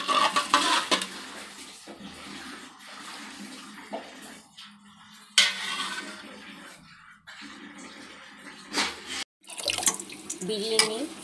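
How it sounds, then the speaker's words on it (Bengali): Rice for biryani being washed, two kilos in water, with running tap water, swishing and sloshing in bursts separated by brief pauses, plus occasional clinks of a pot, close and fairly loud. "বিরিয়ানি করার আগে চালটাকে ভালো করে পরিষ্কার করে ধুয়ে নিতে হবে।"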